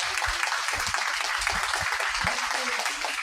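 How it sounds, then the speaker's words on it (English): Steady audience applause at a garden club gathering, a continuous wash of many clapping hands with some low thumps underneath. "Let's give them a round of applause."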